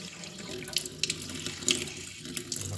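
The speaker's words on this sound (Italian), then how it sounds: "apriamo l'acqua" Water from an outdoor fountain tap runs at moderate strength while a fishing reel is rinsed under it, giving a steady close hiss of flowing water with small splashing spikes and no voices.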